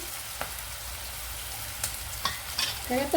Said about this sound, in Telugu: సిమ్లో పెట్టుకుని వేగించుకోవాలండి